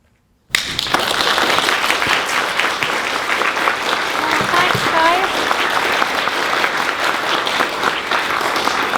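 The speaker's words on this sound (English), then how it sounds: "I don't think I've ever been clapped by so many people before when I wasn't singing." A large convention crowd at NerdCon bursts into applause after a short silence, a dense, loud, sustained roar of clapping with faint voices and cheers inside it.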